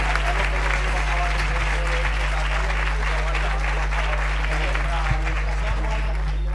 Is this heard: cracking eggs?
no